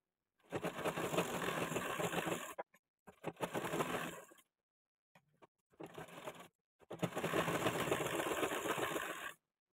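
A domestic sewing machine runs in steady bursts while stitching a strip of cloth straight along the side of a girl's frock, with a close, even mechanical whir broken by short pauses between runs.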